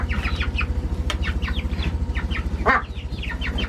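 Black Marans hens cluck in short, repeated bursts close by, over a steady low rhythmic hum, with one louder squawk near the end.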